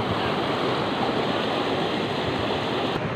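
A strong water current rushes in a dense, continuous roar during flooding, loud and unbroken throughout with no voices.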